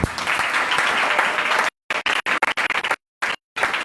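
A church congregation applauding: dense, steady clapping that breaks off abruptly into a choppy series of short bursts separated by dead silence.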